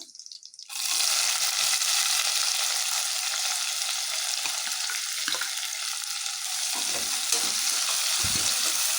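Chopped onions hit hot oil already fragrant with spices for a home-style chicken biryani, bursting into a loud, dense sizzle after a brief quiet start and then frying steadily, close and unbroken, with faint scraping as they are stirred.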